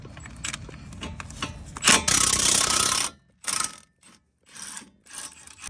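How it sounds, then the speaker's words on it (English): An impact gun loosening the brake caliper bolts on a Honda Element or CR-V gives a loud, harsh burst of about a second, with quieter metallic handling noises and clicks around it. "Just to speed up the process, I'm going to use my trusty impact gun."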